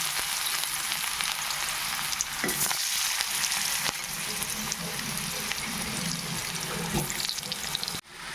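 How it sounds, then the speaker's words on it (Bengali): Kohlrabi and potato pieces fry in hot oil, a steady loud sizzle that runs throughout, with occasional knocks and scrapes as the pieces are stirred. "এবার এই তেলটার মধ্যে আমি ওলকপি আর আলুগুলোকে দিয়ে দিচ্ছি একটু নেড়ে নেবো একটু হালকা করে এগুলো ভেজে নেব"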